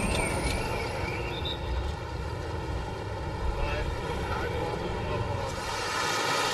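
A steady, droning aircraft engine at a military airport in Brussels hums throughout at moderate volume, with a faint voice speaking underneath.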